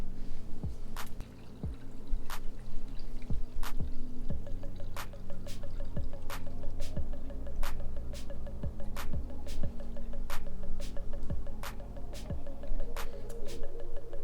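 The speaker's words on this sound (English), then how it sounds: "So we're just gonna drain out the water in this tank first." Water drains from a betta fish tank, heard as a run of irregular drips, trickles and squishy splashes spread over about fourteen seconds.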